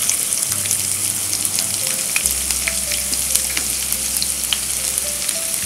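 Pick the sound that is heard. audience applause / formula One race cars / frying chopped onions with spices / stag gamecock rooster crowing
frying chopped onions with spices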